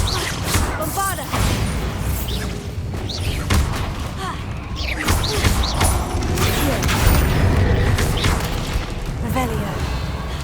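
Repeated Bombarda blasting-spell explosions from Hogwarts Legacy, loud booming bursts recurring amid busy combat effects, with a voice talking over much of the action.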